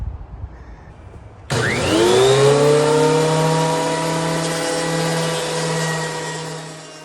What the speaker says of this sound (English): we're getting these slats cleaned up, running them through the planer